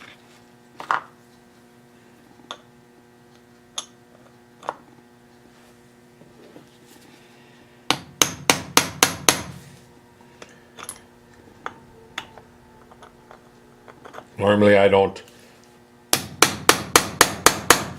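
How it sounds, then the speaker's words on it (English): Metal transfer punches being hammered into a wood workpiece in a workshop: loud sharp strikes in two rapid bursts of about six blows each, scattered single taps between, and a short spoken remark in between. "hammer my transfer punches in, but on wood"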